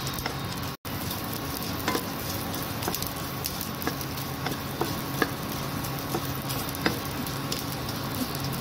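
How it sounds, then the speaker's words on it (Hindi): Edible gum (gond) fries and puffs in a kadhai, giving a steady, close sizzle with light crackles and occasional ticks from stirring, alone without any talk. "अभी मैं इसको फ्राई कर लूंगी।"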